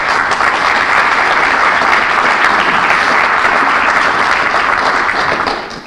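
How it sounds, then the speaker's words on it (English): Sustained, dense applause from the audience at a North Haven Community Emergency Response Team graduation ceremony honoring its leadership, steady and loud throughout before tapering off at the very end. "Give them a round of applause, please."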